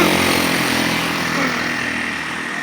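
A clean-looking motorcycle engine runs steadily close by, a continuous loud buzzing drone that holds even throughout with no talking.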